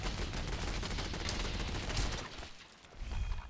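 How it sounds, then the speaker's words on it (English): An automated turret in Fallout 4 fires a continuous loud rapid stream of shots, dipping briefly near the end before the firing resumes. "Finally, the turret started up."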